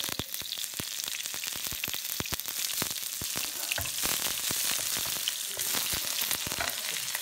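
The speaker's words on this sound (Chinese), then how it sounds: "葱花爆香" Chopped scallions sizzle and crackle in hot oil, a dense, steady frying hiss with frequent sharp pops throughout, close and loud with no talking.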